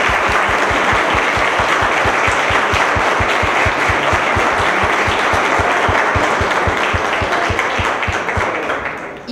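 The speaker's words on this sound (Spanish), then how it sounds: "Un fuerte aplauso." Strong, loud audience applause at a Mexico City agreement signing event between INFO and COPRED, dense clapping with a rhythmic beat running through it, sustained before tapering off at the end.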